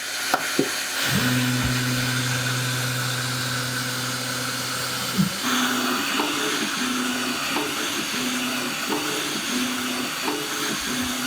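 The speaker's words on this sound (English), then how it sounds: "you always hit the Start button on the top of the printer to start the process" An EufyMake E1 UV printer runs with a steady mechanical hum and hiss, a sustained tone that stops abruptly before resuming as softer pulsing motor sounds, with no talking.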